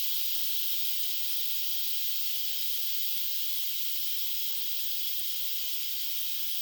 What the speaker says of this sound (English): We gotta let out the steam now.